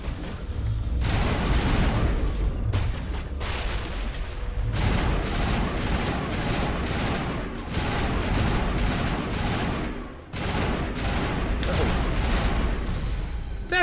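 Sustained gunfire in the Mass Effect video game, a dense fusillade of rapid shots and booms running almost without pause, loud and close, with a brief lull partway through.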